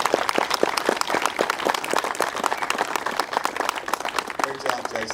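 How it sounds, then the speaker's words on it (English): Audience applause at a railroad locomotive dedication ceremony, steady dense clapping from a crowd lasting the whole stretch, with some voices mixed in. "Let's have a big round of applause."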